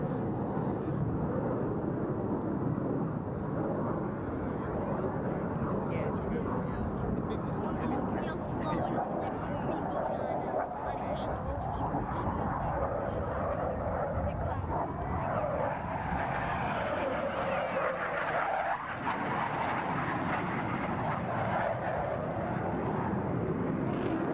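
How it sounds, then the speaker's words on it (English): Military jets perform at an Air National Guard air show at Quonset, pulling high g as two aircraft cross over center point, a continuous loud roaring rush of engine noise throughout, with a public-address announcer talking over it. "let's watch as both pilots sustain 6 times the pull of gravity required to cross their aircraft over center point"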